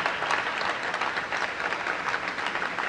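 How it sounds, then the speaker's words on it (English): An audience applauds Dr. Newman and his team at the Books from Birth program launch with the mayor, a steady, fairly soft wash of many hands clapping that continues unbroken. "Give Dr. Newman and his team a big round of applause"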